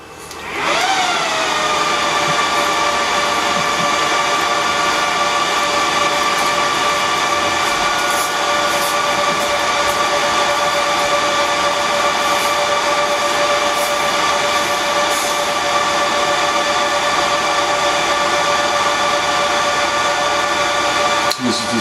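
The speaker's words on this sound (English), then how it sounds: "So then this is the sound of a Hewlett-Packard." Hewlett-Packard server fans spinning up and then holding a loud, steady whine with a broad rushing hiss, close by and continuous for about twenty seconds, with no speech over it.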